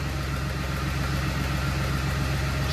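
Ford Mustang engine running rough with a misfire, a steady close low rumble with a slightly uneven pulse throughout.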